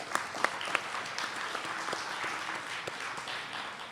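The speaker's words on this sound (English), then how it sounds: "Give a round of applause." Audience applause closes a special session at a health research conference: a room of people clapping steadily at moderate volume, with a few sharper individual claps standing out near the start.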